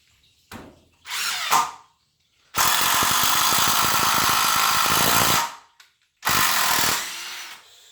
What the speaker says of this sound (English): that's the impact driver. 3-inch screw.